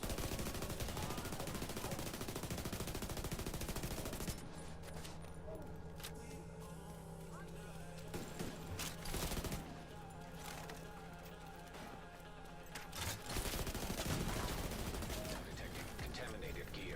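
Gunfire in The Division 2's Dark Zone: rapid bursts and single shots crackling over game ambience, with quieter stretches between volleys at moderate loudness.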